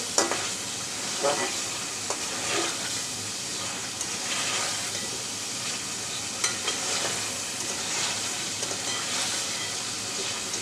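Taro corms (kochu mukhi) frying with chili paste in a pan for a village-style tengra fish curry, a steady close sizzle with repeated scraping stirs and clinks throughout, no talking.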